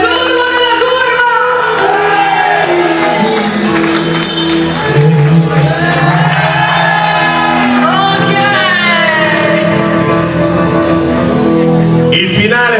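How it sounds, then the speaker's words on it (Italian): Loud crowd at an outdoor concert in a park in Copparo, roaring and shouting from the stands over steady live music, sustained throughout with a swell partway through. "L'urlo della curva!"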